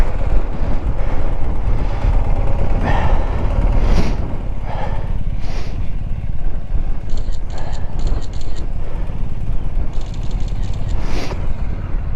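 Blustery wind buffets the microphone with a constant low roar, with short breathy gusts and faint distant voices underneath.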